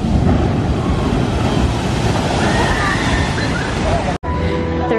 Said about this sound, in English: the water ride